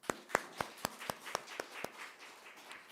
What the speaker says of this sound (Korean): 우리 한 번만 더 크게 한번 박수할까요?